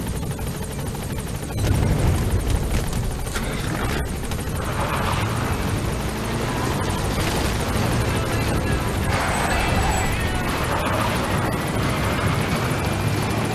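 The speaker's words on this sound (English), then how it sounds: "Support helicopter has arrived." A support helicopter in Metal Gear Solid V arrives with a loud, steady rotor roar and engine drone that swells and holds throughout, dense and close.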